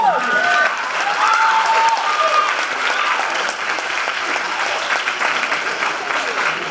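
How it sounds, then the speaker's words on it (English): Audience clapping at a Cleveland high school commencement ceremony, a full steady round of applause that holds throughout and slowly thins toward the end, with some faint crowd noise beneath. "ladies and gentlemen, yeah, you can applaud that"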